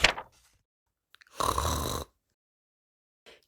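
A voice imitates a dog snoring for a children's story, giving one drawn-out snore with a snorting rasp between short breathy sounds, close and alone against silence.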